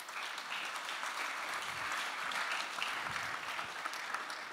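An audience at an engineering symposium applauds a professor, a dense, steady wash of clapping from many hands that holds an even level throughout, with no talking over it.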